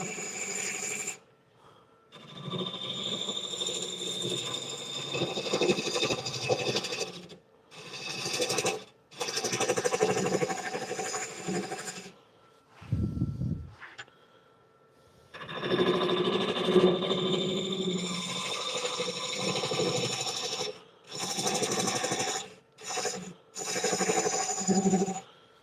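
A Craftex wood lathe spins while a flat carbide tool cuts the turning wood, producing sustained rough scraping and rasping in long bursts broken by short pauses and silences.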